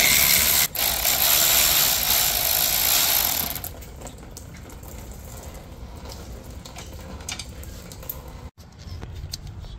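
A ratchet wrench takes out two 10 mm bolts from the back of the supercharger coolant pump on an Audi C7 A6/A7 3.0T: a burst of rapid, loud clicking, then quieter intermittent ratcheting and a few clunks nearby, without talk.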